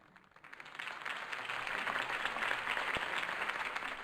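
Crowd applause in Batman: The Telltale Series after a campaign speech swells in from near silence, builds to a broad, steady roar of many hands clapping and holds there, fairly distant and soft in level.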